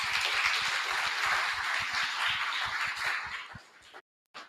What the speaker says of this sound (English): Please give Rajesh a big clap.